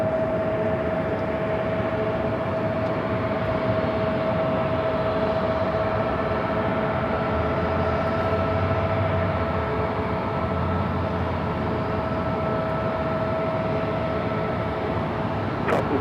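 Steady, continuous jet engine roar from an airliner arriving to land at LAX, a constant drone with a sustained tonal whine, heard from a distance without talk.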